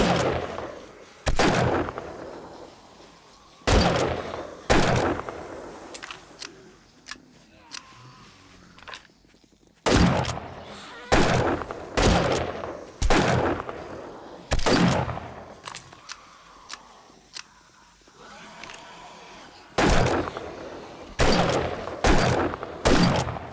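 Loud gunshots fired into the sky in the video game 7 Days to Die crack out one after another at irregular intervals, with quieter stretches of game ambience between them.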